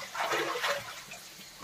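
Water splashes and runs while a pressure cooker is rinsed, a brief close sloshing burst that fades to a softer trickle.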